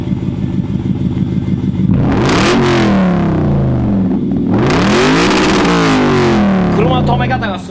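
A Ferrari sports car revs hard twice on a street, each rev rising in a loud, close roar and falling back, with a rough idle between the bursts.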